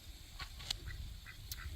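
Ducks sitting on eggs in a backyard chook pen give a few soft, scattered quacks at moderate distance over a low background hum.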